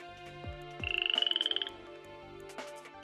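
A cartoon frog gives a loud, rapid pulsing croak lasting under a second, set against a music bed with a few swooping effects before and after it.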